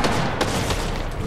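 A pink sniper rifle fires in Fortnite Battle Royale, a single sharp crack near the start set against dense, continuous gunfire and game noise that fills the whole moment.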